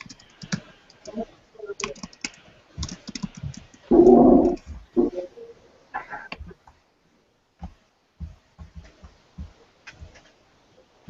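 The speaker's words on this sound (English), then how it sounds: "Mary, can you type into chat and ask her if these are mesh builds" Clacking keys on a computer keyboard come in irregular bursts of quick taps, close and fairly soft, with pauses between and one louder burst midway.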